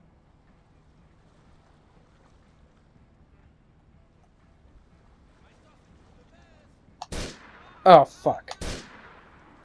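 Weapon gunfire in Grand Theft Auto IV: several seconds of near silence, then a few sharp, loud shots close together at the end, with a man's brief exclamation among them.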